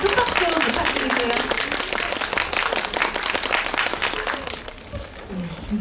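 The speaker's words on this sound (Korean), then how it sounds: "여러분들 큰 박수 부탁드릴게요" Audience at a guest visit screening in a cinema hall gives a big welcoming round of applause, dense sustained clapping that fades slightly toward the end as voices rise.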